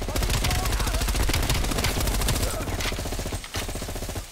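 Rapid automatic gunfire in a Call of Duty Black Ops Cold War campaign mission, dense and loud with sustained rattling bursts that thin out toward the end, heard alone without talk.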